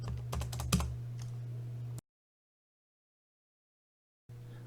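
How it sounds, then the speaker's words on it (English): Close typing on a mechanical keyboard with clicky Cherry MX switches, a quick run of keystrokes that cuts off into silence before a faint hum returns. "right now I'm typing in a keyboard with Cherry MX switches"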